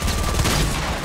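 Gunfire from Fortnite crackles in a rapid, dense burst, loud and close throughout a brief moment with no pause.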